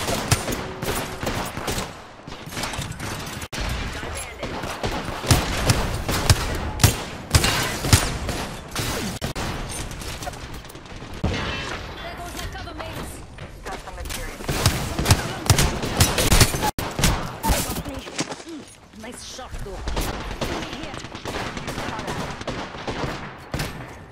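Rapid gunfire bursts from weapons in the battle-royale game Apex Legends crackle almost nonstop, loud and layered with impacts, while a player talks intermittently.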